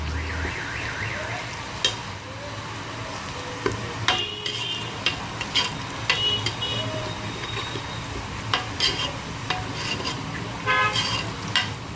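Onions turning light golden brown, fried and stirred for daal mash, give a continuous sizzle with frequent spoon scrapes and clatters, while a warbling alarm-like tone and honks sound in the background.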